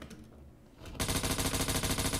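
An SR-3M rifle fires from the hip in a shooter game, starting as a single shot after a quieter stretch and then becoming a loud, sustained automatic burst of evenly spaced gunfire.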